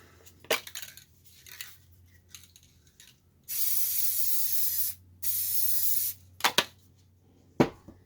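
Spray paint cans hiss out paint for art in two sustained bursts of over a second each, close and loud, surrounded by light clicks and rattles of the can.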